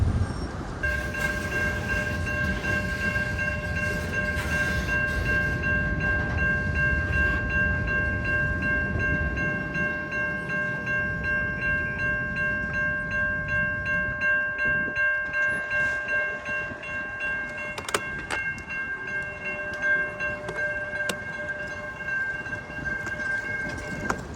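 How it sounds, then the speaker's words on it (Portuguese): A slow train rolls past in a wealthy city neighborhood, its steady, loud rumble of wagons running close by for about twenty seconds, with sustained horn-like tones ringing over it. "Galera, esse trem demorou, velho. Ele tava devagarinho."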